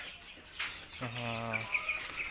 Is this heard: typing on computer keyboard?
no